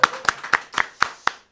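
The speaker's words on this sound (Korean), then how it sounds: "다시 박수." Six crisp, evenly spaced hand claps ring out in a steady rhythm on a Korean Christian talk show set, close and clear with no talk over them.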